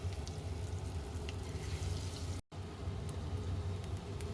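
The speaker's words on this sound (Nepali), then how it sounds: "यहाँ टुक्रा टुक्री बने, तिनैलाई फेरि मैले अब पकौडाको स्टाइलमा फेरि फ्राई गर्न लाएँ" Potato pieces frying pakora-style in hot oil give a steady, soft sizzling hiss that runs unbroken apart from a brief cut, with no talking.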